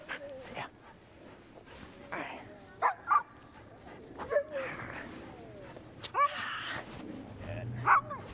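A reactive dog on a leash gives several short, sharp barks and yips spaced through the clip, close and moderately loud, with people talking quietly between them.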